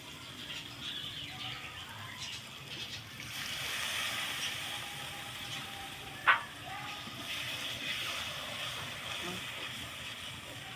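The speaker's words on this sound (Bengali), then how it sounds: "মশলা ভালো মতো ভেজে নিছি একটু জল দিয়ে দিব এখন" Water is poured onto fried spices in a hot pan for a goat-head chana dal curry, raising a broad rush of hissing steam that swells and holds, with one brief sharp clink midway.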